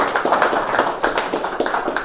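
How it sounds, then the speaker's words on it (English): Audience applause at a live Halloween staging of Orson Welles's Dracula at the Rosenbach Museum & Library, with close, loud, uneven clapping from a small crowd that has sharp individual hand claps standing out throughout. "huge round of applause for Kevin Downs, Foley artist extraordinaire"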